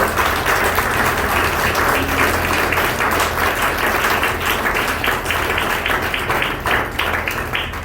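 A church congregation applauds steadily during a Spanish-language sermon on Romans chapter 2, a dense, sustained wash of many hands clapping for several seconds with no pause.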